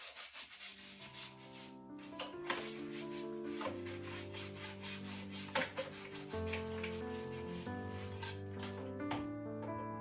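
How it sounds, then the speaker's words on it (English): A brush scrubs a dishwasher filter with quick, repeated scratchy strokes, close and fairly faint, in an uneven rhythm. "this brush would be really handy for giving it a good scrub, literally like this"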